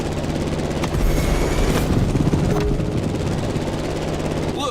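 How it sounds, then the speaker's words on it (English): A plane takes off in a racing game, a loud continuous engine roar with a steady low drone and rising whine, accompanied by a few sharp bangs partway through. "The plane has taken off"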